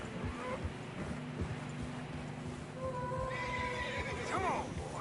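Horses in fresh snow in the game Red Dead Redemption 2: muffled hoofbeats plod along under a low rumble, then a clear, shrill neigh rises near the end.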